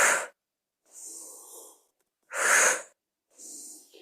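Four deep breaths alternate in and out during a yoga breathing exercise, each lasting under a second to about half a second, with quiet gaps between. The breaths are close and airy, the exhales stronger and rougher, and no talk is heard.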